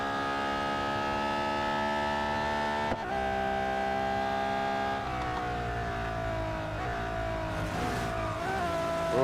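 Race car engine from the mobile racing game Real Racing 3, a loud sustained whine that holds steady with brief dips and shifts in pitch as the car accelerates, with no talk over it.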